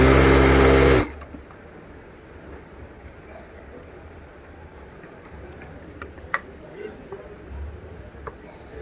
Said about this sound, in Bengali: খুব সুন্দর করে কিন্তু সেলাই হচ্ছে এখানে